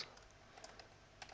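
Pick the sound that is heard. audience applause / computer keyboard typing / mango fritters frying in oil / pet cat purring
computer keyboard typing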